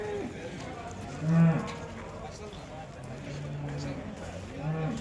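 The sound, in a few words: young male cattle at a livestock market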